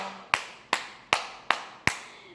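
Five sharp hand claps at a steady, slightly slow rhythm, close and distinct, each with a quick decay, alone against a quiet background.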